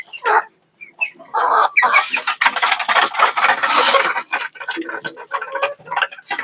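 Chickens cluck loudly and close by in a farmyard, with a busy run of overlapping clucks and calls that ease into scattered, softer clucking near the end.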